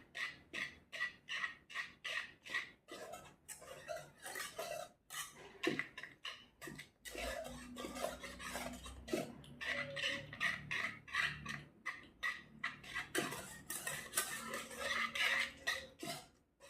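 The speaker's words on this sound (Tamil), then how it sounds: "நல்லா மிக்ஸ் பண்ணிக்கோங்க. நல்லா பேஸ்ட் தன்மை வரும்." Cake batter with ghee being mixed by a spoon in a bowl off the stove, giving a steady run of close clinks and scrapes against the bowl with short pauses.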